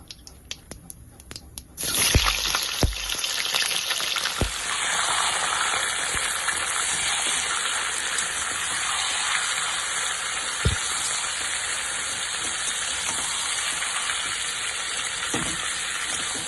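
Washed, drained chicken dropped into hot oil with cumin seeds, giving a sudden loud burst of sizzling that settles into a steady, dense hiss of frying, close up, with a few clinks from a utensil against the pan.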